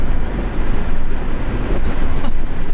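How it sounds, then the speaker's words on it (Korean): Loud, rough wind rushes in through a lowered window of a BYD Dolphin small hatchback cruising at 80 km/h, a dense continuous roar with low rumble and no voices. "동일하게 시속 80km에서 윈도우도 한번 내려볼게요"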